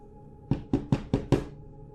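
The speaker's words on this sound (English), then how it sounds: "A knocking at the door." Five sharp knocks strike a door in a quick, slightly uneven sequence, close and crisp against a quiet room tone.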